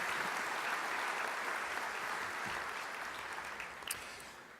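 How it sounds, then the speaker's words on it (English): A room full of people applauding at a CPS Energy 75th anniversary celebration in San Antonio, a broad, steady roar of clapping that slowly tapers near the end. "let's give him a round of applause"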